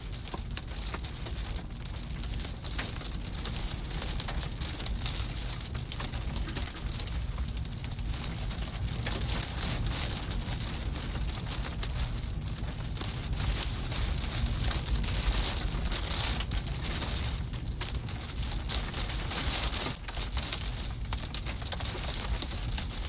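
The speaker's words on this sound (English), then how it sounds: "Getting slammed with hail here." Hail pounds a storm chaser's car during a massive tornado storm in Nebraska, making a dense, continuous roar of rattling impacts that stays loud and steady throughout.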